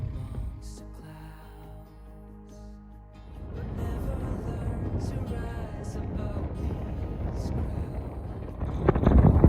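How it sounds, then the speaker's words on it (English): Strong Wyoming wind buffets the microphone at Split Rock, a deep, loud, continuous roar that picks up partway through and keeps gusting until it swells near the end. "you can definitely hear the wonderful Wyoming wind"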